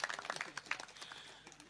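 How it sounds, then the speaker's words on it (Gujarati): An audience at a Gujarati comedy show claps in a quick, dense burst that tapers off over a second or so, with some murmuring voices underneath. "એમ નથી થતું મારા માટે એક તાળી વગાડું"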